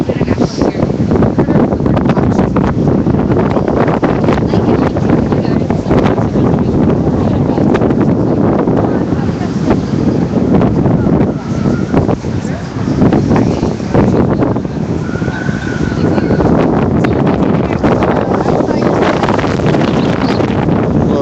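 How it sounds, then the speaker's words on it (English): Strong, cold wind roars and buffets the microphone continuously at an outdoor protest in Asheville, a loud, rough rush with no letup. "It's very windy and it's very cold here"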